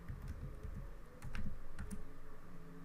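Code being typed on a computer keyboard, soft rapid key taps close up over a low steady room hum, with no talking.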